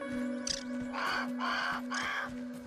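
A crow in the video game Grounded caws in a series of about four harsh calls, moderately distant, over a steady low game hum.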